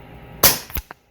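Single sharp crack of an air rifle firing a pellet at a target range, close and loud, followed by a couple of quick fainter mechanical clicks and a short decay, with no talk.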